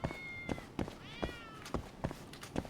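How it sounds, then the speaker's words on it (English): Cats meow again and again at fairly even intervals, with high, drawn-out cries between soft thumps. The sound is moderately close and faint, and nobody speaks. "Oh, I hear them cats already."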